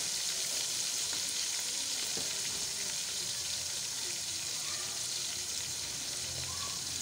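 Mixed vegetables with turmeric, salt and chilli fry in a pan, making a soft, even sizzle that runs steadily throughout with faint stirring and no speech.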